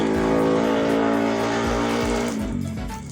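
A loud, close car sound effect in a card game swells with a revving engine tone, then a series of rapid pulsing bursts as it fades toward the end.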